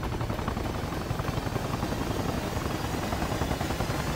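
Helicopter arriving in a video game, a steady, dense rotor roar that holds loud and constant, with no voices over it.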